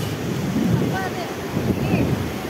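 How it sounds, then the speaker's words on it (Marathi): Ocean surf on Baga beach, Goa, a loud, continuous wash of breaking waves mixed with heavy wind buffeting the microphone, with faint voices underneath. "We R on the beach, Baga beach."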